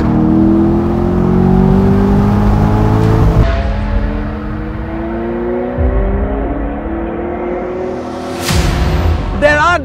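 V8 supercar engine running steadily, rising and falling as it revs, with smooth rising whine of acceleration, then a brief lull before another surge; loud and close.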